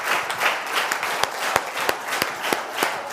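An audience at a business motivational event applauds steadily, a dense wash of many hands clapping with sharper individual claps poking through, sustained at even loudness throughout.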